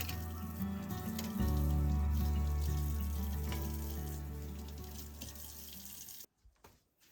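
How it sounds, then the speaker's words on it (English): Hands being washed under a running tap, a steady close stream of water hitting a sink that thins out and stops near the end, followed by a few drips and small knocks. "I'm going to wash my hands"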